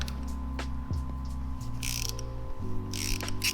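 Ratcheting wrench loosening bolts on a Honda Rebel 300/500 front fork, with rapid clicking pawl ratchets, tonal mechanical whines and a few metallic clanks, close and without talk.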